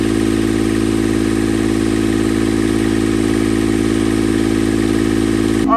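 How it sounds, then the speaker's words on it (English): A boat's diesel engine runs steadily after repair work, a loud, even drone with a constant low hum and no change in pace throughout, cutting off abruptly at the very end. "So the engine is running."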